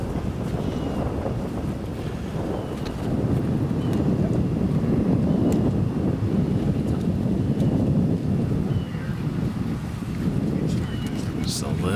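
Steady outdoor wind on a disc golf course buffets the microphone with a continuous low rumble and gusts, louder through the middle stretch, with no other distinct sounds standing out.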